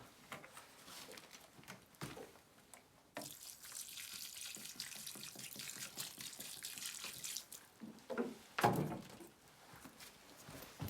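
Water poured into a clay mix for repairing an old stove, a broad splashing rush that runs steadily for several seconds, close and fairly quiet, with a few thunks and clatters near the end.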